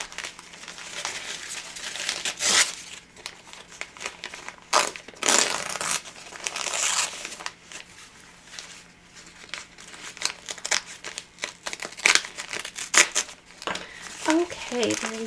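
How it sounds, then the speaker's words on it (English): Embroidery stabilizer and tape being peeled and torn away from a felt pocket, bursts of crinkling, rustling and ripping that come and go, with a person talking between them. "I am just removing my stabilizer"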